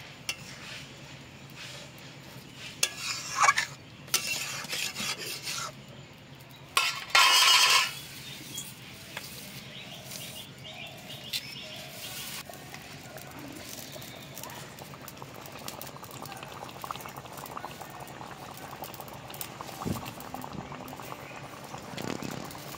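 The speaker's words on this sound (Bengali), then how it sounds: "আর অল্প একটু জল দিয়ে দিচ্ছি। এবার খুব ভালো করে জাল করে নেব।" Dal with eggs bubbles and simmers in a pan after water is added, a low, continuous boiling patter broken by a few louder bursts of stirring and scraping near the start.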